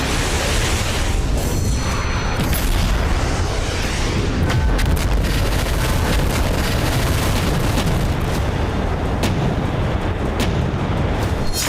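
Indian Army Arjun tanks and artillery guns fire in a loud, continuous barrage of heavy booms and blasts, dense and saturated with rumbling low energy and no clear gaps between rounds.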